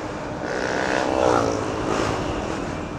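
An FKM Ranger 150 motorcycle with a GY6 engine runs quietly at a steady idle, a smooth continuous drone that swells slightly midway and carries no talk.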